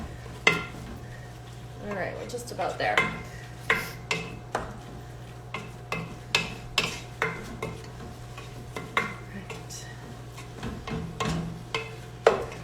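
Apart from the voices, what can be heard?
turkey chili meat being broken up and stirred in pot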